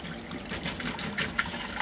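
Water runs from a two-handle faucet with its aerator removed, a full, steady rushing splash into the sink with slight gurgling variations, close and continuous with no talking.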